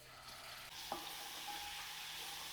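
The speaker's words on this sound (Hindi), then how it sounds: "उसके बाद ऑनियन को थोड़ा सौते कर लेंगे, हम थोड़ा सा ब्राउन कर लेंगे" Onions with ginger garlic paste sizzle in hot oil in a pan, a soft steady frying hiss with a brief stir scrape, close and fairly quiet.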